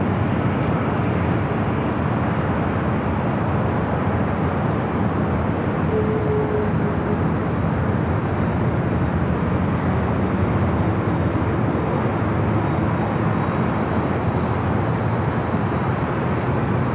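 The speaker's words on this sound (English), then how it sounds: "So we got a second MSC Air Cargo 777 now pushing back." MSC Air Cargo Boeing 777 operated by Atlas Air at LAX, a continuous broad engine roar that holds steady and loud throughout.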